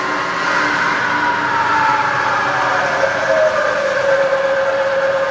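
Rebuilt Bridgeport milling machine running in low range: a loud, steady motor whine with a droning tonal hum and a pitch that slowly sinks slightly, continuous and close, no voices.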